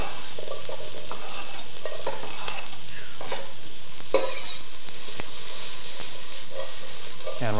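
Chopped soup vegetables sautéing in a pot, with a loud, close sizzle broken by clattering stirs and scrapes over several seconds.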